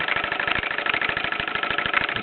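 A 1930s Bowman M167 toy steam engine running, giving a steady bright hiss over a regular series of quick low chuffing beats, close and fairly loud, with no voices.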